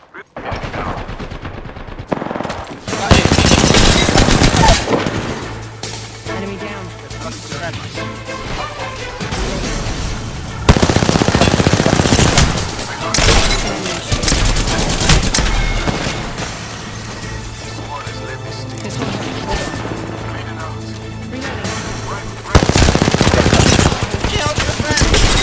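Loud, dense automatic gunfire and explosive bursts from an Apex Legends match, sustained volleys with short pauses over a low game drone, with a voice speaking under the shooting.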